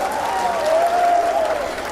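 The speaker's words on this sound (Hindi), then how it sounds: "एक बार आप इनके लिए जोरदार तालियां बजा दीजिए।" An audience at a mushaira (Urdu poetry gathering) applauds in a continuous patter of clapping, with a sustained tonal hum and faint voices underneath.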